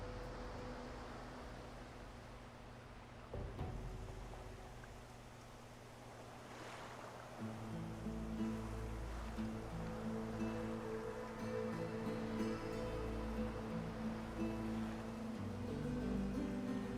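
Ocean waves rolling in a fantasy game world, a steady broad wash of surf with a soft low rumble, continuous and fairly even, with faint ambient music tones layered in.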